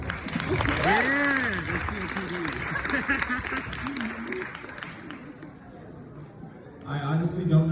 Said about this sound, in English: Everyone, just round of applause for everybody that's performed.